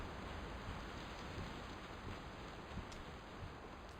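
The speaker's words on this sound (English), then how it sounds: "It's pouring so hard by you, it's in sheets of rain." Heavy rain pours down in sheets, a dense, steady roar of water that stays loud and unbroken throughout, with no voices over it.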